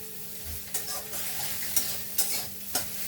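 Chow mein noodles tossed with onions and vegetables in a frying pan make a soft, steady sizzle, with four distinct scraping, clinking stirs at irregular intervals and no talking.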